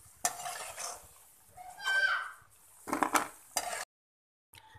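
Pakora curry being stirred in a pot, with scraping spoon strokes and a few metallic clinks against the pan, close and moderately loud, ending in a brief silence.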